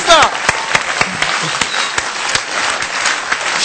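Audience applause in a school hall before a student rhythm show, a bright wash of clapping with a few sharper individual claps, as people talk over it.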